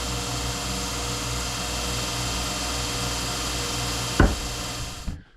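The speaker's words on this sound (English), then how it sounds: "My little axe grinder. So I'm going to finish putting the edges on my axe." A small axe grinder runs steadily, sharpening the edge of a Conan splitting axe, with a loud, even motor whine for about four seconds. A sharp knock follows, then the grinding winds down to quiet.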